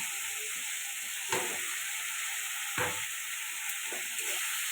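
Banshpata fish fry in a spiced masala of cumin powder and a little water, giving a steady close sizzle broken by a few soft stirring scrapes, with no talking.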